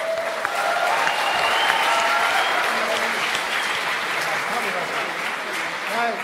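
Sustained, loud crowd applause at a youth camp sundown service, an even, continuous roar of clapping hands with some voices and cheers blended in throughout.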